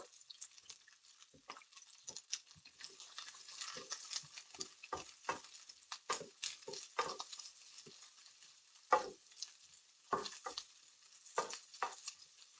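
Salted vegetables with pepper cook in a pan on the stove, giving a soft sizzle broken by frequent scraping and stirring clicks, close and fairly quiet, with no talking.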